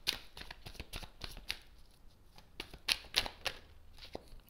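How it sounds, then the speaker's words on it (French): Tarot cards being shuffled and drawn, a run of quick crisp riffling flutters and sharp card snaps in an irregular rhythm, close and clear with no talking. "Allez, je prends 3 cartes"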